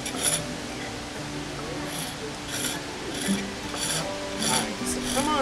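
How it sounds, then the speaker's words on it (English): A piece of wood being burnished with fresh wood shavings, giving a quiet steady rubbing and scratching with faint light clinks, heard close up. "take some of these fresh shavings that you see on the ground and burnish the piece of wood"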